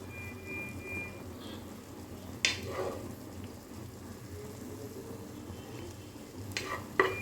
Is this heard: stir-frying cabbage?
yes